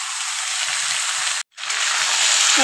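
Prawns sizzle in a hot pan of spiced jackfruit and potato, a loud steady frying hiss that briefly cuts out, then resumes and swells slightly as the prawns go in.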